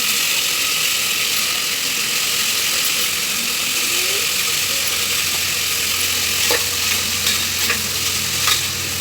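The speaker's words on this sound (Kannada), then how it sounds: "ಚೆನ್ನಾಗಿ ಎಣ್ಣೆಯಲ್ಲಿ ತರಕಾರಿ ಫ್ರೈ ಮಾಡ್ಕೊಳ್ಳೋದ್ರಿಂದ ಟೇಸ್ಟು ಚೆನ್ನಾಗಿರುತ್ತೆ." Mixed vegetables being stir-fried in oil in a pan for a soya pulao, a steady loud sizzle with scraping and stirring clatter running throughout, no voices.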